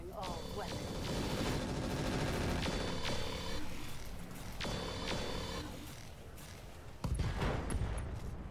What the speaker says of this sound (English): All right, let's fire, see what happens.